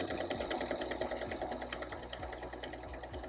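A sewing machine stitches fabric in steady, fast mechanical chatter with a regular rhythmic pulse, heard alone at moderate volume close by.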